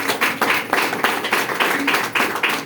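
A small audience claps for a woman among them, a rhythmic burst of close, sharp hand claps in quick regular beats over a few seconds.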